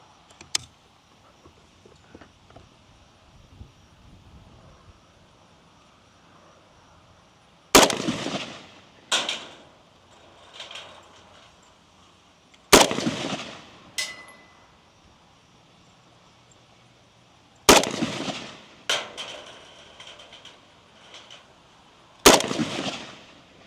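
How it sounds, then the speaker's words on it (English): Five sharp rifle shots from an FB Radom Mini Beryl ring out at an outdoor range, spaced several seconds apart, each loud and close with a short echoing tail. "So let's take 5 more shots."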